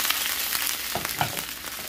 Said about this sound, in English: you're just going to allow this to now start to simmer